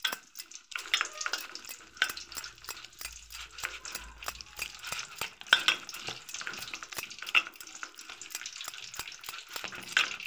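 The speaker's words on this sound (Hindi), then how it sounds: "घोल बना लेते हैं, थोड़ा थोड़ा पानी कर।" A spoon stirs gram-flour (besan) pakora batter with water and a pinch of baking soda in a bowl, producing rapid, rhythmic wet slaps and scrapes that repeat steadily, close up and without talk.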